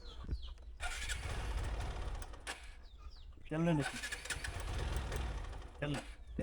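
A 2023 TVS Apache 4V motorcycle at a used-bike market is started and settles into a steady, fairly loud running note close by, while people talk over it.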